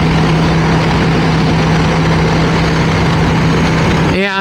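A Moto Guzzi V7 Stone motorcycle rumbles along at low RPM, a steady, loud engine drone throughout with a brief rise in pitch near the end.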